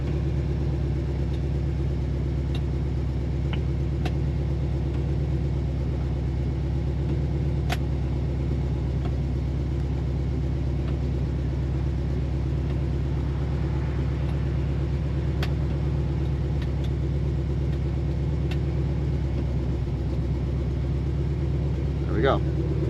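A 1973 AMC Jeep CJ5 engine runs steadily throughout, a constant low rumble with a faint idle-like throb and occasional light clicks, fairly loud and close with no talk over it.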